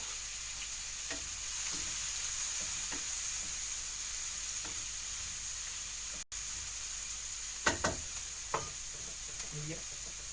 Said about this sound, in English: now I'm gonna throw in the onions